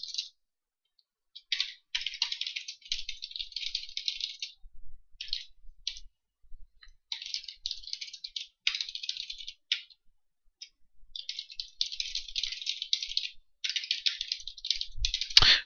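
Fingers type on a computer keyboard, filling in test details on an online quote form. Close, rapid bursts of key clicks alternate with brief pauses, and no one speaks.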